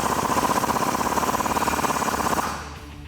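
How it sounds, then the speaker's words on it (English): Rapid, steady mechanical rattle of a power tool, likely an impact wrench, tightening a suspension bolt on a Jeep Wrangler JK 4-door during a lift kit install with a 21mm socket. Loud, continuous hammering that stops and trails off after about 2.5 seconds. "we can take our 21mm socket and tighten that up"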